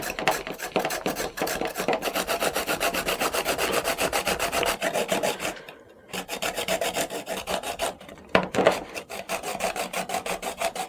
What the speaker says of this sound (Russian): Кабачки натираем на крупной терке.